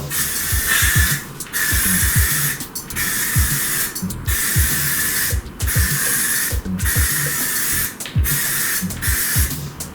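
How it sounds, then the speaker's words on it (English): Repeated bursts of aerosol primer spray hissing close by while coating car wheels, each lasting a second or two with brief pauses between, over faint background clatter. "Make sure your aerosol can is pretty well mixed"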